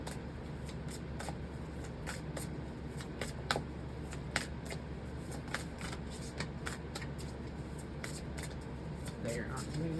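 Tarot cards are shuffled and handled nearby, giving soft, repeated riffling flicks and snaps over a quiet, steady background hum.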